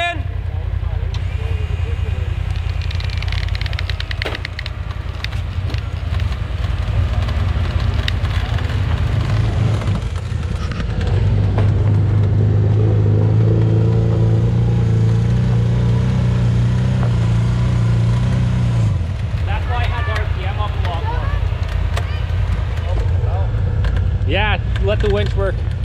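Side-by-side UTV engine held at high revs during winch work on a snowy winter creek trail, a loud droning roar that swells and holds steady mid-clip, with people talking over it.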